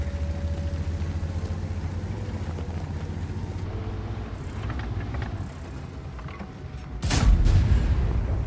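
A tank cannon fires in World of Tanks from a JGPZ E 100 battle, a sudden loud boom that ends a stretch of rumbling engine and battlefield noise, with no talking.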